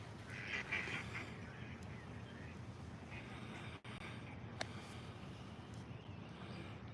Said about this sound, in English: You guys see the ducks?